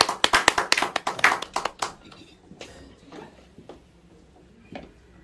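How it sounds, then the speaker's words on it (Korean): A small audience at a public lecture on Korean national religion claps to welcome a guest speaker: a burst of distinct, fairly close handclaps for about two seconds that quickly thins out into a few scattered taps and room noise. "여러분 박수로 환영해 주십시오."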